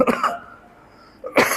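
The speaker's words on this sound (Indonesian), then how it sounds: "Oh, saya udah mulai batuk" Two harsh coughs, one at the start and another at the end, separated by a quiet pause.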